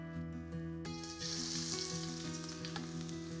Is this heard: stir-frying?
yes